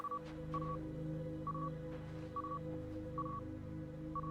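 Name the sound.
radar ping locating resources in Stars Reach video game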